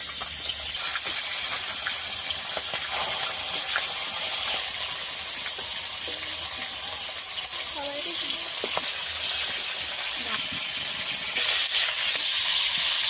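Fresh pond fish frying in hot oil for a cauliflower, potato and fish curry makes a continuous, even hissing sizzle that holds at a steady level from start to finish, with only a few faint clicks over it.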